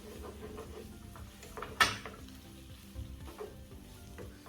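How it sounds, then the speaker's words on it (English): Two finely chopped garlic cloves hitting a hot pan for a healthy prawn dhansak, a quiet sizzle with one sharp hiss as they land, then low frying crackle continuing. "Then into that we add 2 very finely chopped cloves of garlic."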